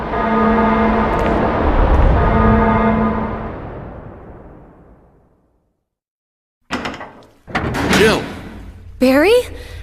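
Resident Evil doors slamming and locking shut as an emergency lockdown, a loud heavy metallic slam with a long resonant decay that fades to silence, followed by short clanks and speech.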